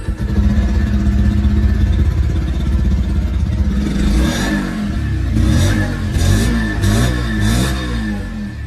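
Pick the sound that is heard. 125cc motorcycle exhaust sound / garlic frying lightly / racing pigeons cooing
125cc motorcycle exhaust sound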